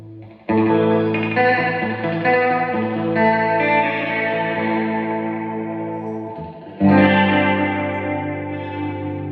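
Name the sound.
short tape echo repeats on guitar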